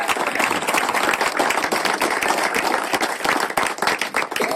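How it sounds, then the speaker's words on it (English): Sustained applause and clapping from an audience at an outdoor fundraiser barbecue, dense and steady throughout, with faint voices mixed into the crowd noise. "We owe her a big round of applause for that."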